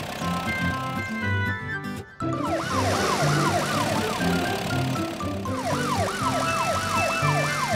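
A cartoon police siren wails in repeated rising-falling sweeps over bright, bouncy music, briefly cutting out partway through.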